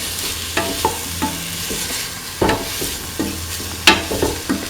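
Tofu rice is stirred in a hot pan with a steady close sizzle, broken by repeated spatula scrapes and clacks against the pan at an uneven rhythm.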